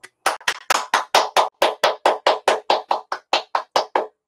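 A lone pair of hands claps after a talk on the winter weather of February 2021, with about eighteen sharp, evenly spaced claps delivered close up at a brisk, steady pace.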